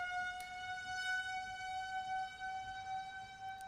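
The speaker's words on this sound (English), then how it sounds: "Tornado sirens are going off here." A steady tornado siren wails in the distance, a sustained high tone holding evenly throughout, fairly faint with no talking.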